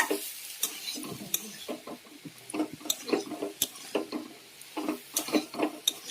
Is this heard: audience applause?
no